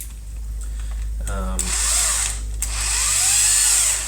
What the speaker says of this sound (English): To install these, you will need a 5/16" attachment on the cordless drill.